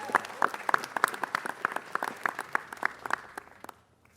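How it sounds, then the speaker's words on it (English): Scattered applause at a city council meeting, sparse individual claps from a small group at close range that thin out and fade to silence within a few seconds. "Let's give her a round of applause"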